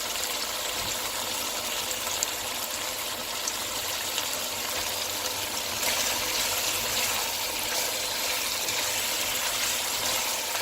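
Water poured steadily into a pot of aloo gosht curry, a continuous broad splashing gush that runs the whole time, loud and close with no talk.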